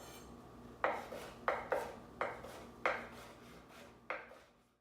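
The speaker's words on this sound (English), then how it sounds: "Here I'm just rough chopping through some parsley and our red peppers." Quiet, evenly spaced knife chops on a cutting board, rough chopping parsley and red peppers, about six crisp strokes with short scraping tails, close by and without talking.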